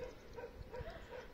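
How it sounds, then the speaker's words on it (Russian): Distant dogs barking outdoors near the sea at sunset, a few faint separate yaps spread through the moment over soft background ambience. "Собаки гавкают, да?"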